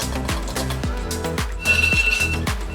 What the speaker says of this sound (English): That's the alarm for the pasta.